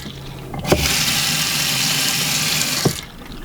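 A household faucet runs with a steady hiss of water from low flow, starting and stopping with brief clunks of the handle, close by with no talking.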